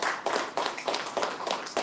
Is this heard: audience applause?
yes